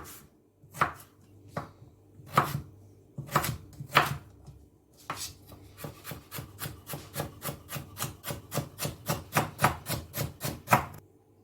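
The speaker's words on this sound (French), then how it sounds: "La carotte, vous la coupez en deux, en deux, et on va faire des petits dés." A knife dices a carrot on a board, a few slow separate cuts first, then a quick, steady run of sharp taps, close and clear with no talking.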